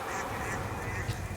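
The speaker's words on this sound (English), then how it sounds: "I'm going to use the haunting quack." A duck-like haunting quack sounds as a skill effect in the video game Shadows Over Loathing, a short continuous call over a dense game background with no talk.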